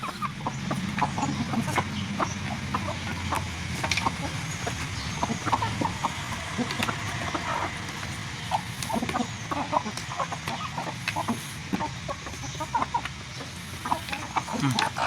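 Several chickens cluck continuously nearby, short overlapping clucks in an uneven chatter over a low background rumble.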